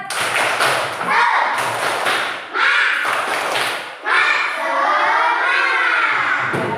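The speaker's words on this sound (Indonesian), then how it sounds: "Tepuk semangat" Schoolchildren in an Indonesian classroom perform a rhythmic clapping cheer, loud bursts of claps and voices in quick patterned groups with short pauses, shouting mixed in close to the microphone.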